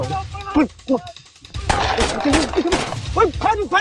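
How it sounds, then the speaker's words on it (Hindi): Gunfire during a police shootout with dacoits in Kasur, sharp cracks and bursts mixed into a chaotic scene, with excited voices talking loudly over and between the shots. "फायरिंग शुरू कर दी, वहाँ से फायरिंग हो रही है"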